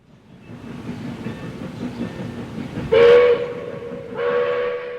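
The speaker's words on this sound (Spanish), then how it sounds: "El ferrocarril que transportaba al general Obregón era un ferrocarril militar." A military steam train with two locomotives rumbles steadily along the track, then gives a loud whistle blast and a second shorter one near the end.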